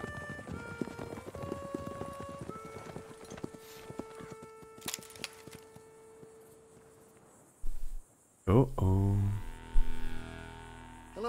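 Horses gallop in Red Dead Redemption 2, their clip-clop hoofbeats faint under game music and sound effects before louder effects and voices take over near the end.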